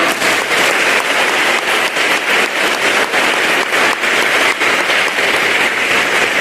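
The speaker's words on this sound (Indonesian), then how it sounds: "Yuk kita apresiasi para guru kita dengan tepuk tangan yang paling meriah." Sustained applause from a large crowd of students at a school Mass, dense and even, with no voices standing out above the clapping.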